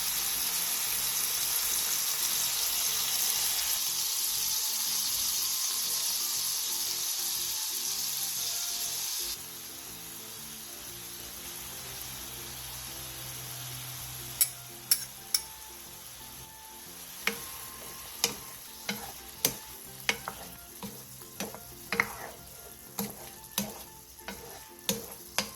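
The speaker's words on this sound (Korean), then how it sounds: "그 다음 진간장 5스푼, 소주 6스푼, 물엿 2스푼, 설탕 1티스푼, 편썬 마늘, 다진 마늘 반 스푼을 넣고 한번 바글바글 끓여주세요." Soy sauce, soju, corn syrup, sugar and sliced and minced garlic come to a boil in a pan, a loud steady sizzling hiss that softens partway, then gives way to scattered sharp bubbling pops and ticks.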